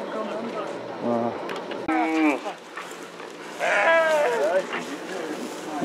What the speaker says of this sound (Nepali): भेडा भेडा मेग्दीको भेडा